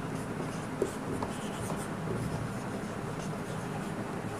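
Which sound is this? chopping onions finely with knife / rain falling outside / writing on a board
writing on a board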